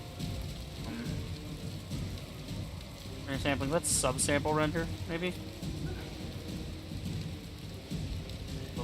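Steady rain and a low thunder rumble fill the environment in the online game Guild Wars, a continuous ambient wash beneath someone talking over it.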